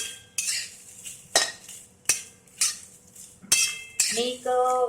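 A metal spoon scrapes and clinks against a pan about every second while whole black masala spices and bay leaves roast over a low gas flame, close and distinct with no talking.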